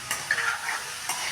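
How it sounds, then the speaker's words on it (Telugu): Onions tossed into a pan with sprouted chana and carrot, stirred with a utensil: a short burst of sizzling and scraping, with a couple of distinct stirring strokes, close and moderately loud. "సో ఇప్పుడు లాస్ట్లో మనం ఆనియన్స్ వేసుకుందామండి"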